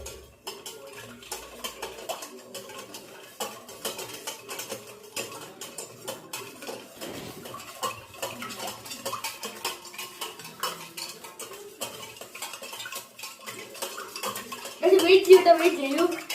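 A spoon stirs freshly made lemon juice in a cup, clinking and scraping against the sides in a quick, irregular rhythm, growing louder and busier near the end, with faint talk in the background.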